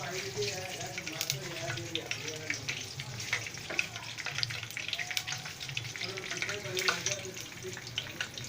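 Cumin seeds and Kashmiri red chilies sizzle in hot oil for an Indian tadka made for kadhi pakora, a steady close crackling hiss that runs through the whole stretch with a few sharper pops.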